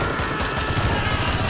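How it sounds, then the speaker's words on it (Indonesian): Rapid bursts of long-rifle gunfire in a film firefight, a dense, continuous, loud volley that fills the short stretch with no pauses. "Apalagi mereka saling ngebrondong senapan laras panjang ya."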